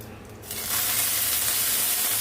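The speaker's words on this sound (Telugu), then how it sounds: "పచ్చి స్మెల్ పోయేంత వరకు కూడా బాగా వేయించుకోవాలండి" Onion paste and cumin drop into hot oil, setting off a sudden loud, broad hiss that settles into a steady, close sizzle.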